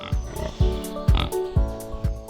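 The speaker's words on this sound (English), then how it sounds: "These pigs are raised in free-range or semi-free-range environments," Free-range pigs oink and grunt loudly nearby, five sharp calls spaced roughly half a second apart, each a short nasal burst standing alone without any speech.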